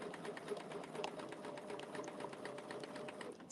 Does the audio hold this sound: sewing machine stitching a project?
yes